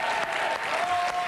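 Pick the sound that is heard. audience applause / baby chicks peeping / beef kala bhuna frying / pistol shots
audience applause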